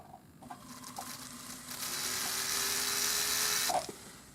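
A rotary tool spins a burr against a pearl bangle to cut a small depression for drilling, a high whirring drone that revs up and holds steady for a few seconds before cutting off, close up with no voices.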